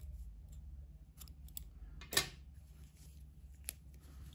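Scissors snip through knitting yarn in a single quick, close cut over a faint room hum, with a few soft handling ticks around it.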